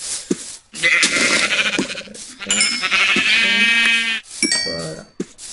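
Sheep in the video game Minecraft bleat loudly and close up, several drawn-out wavering cries in quick succession with short gaps between them, standing alone without talk.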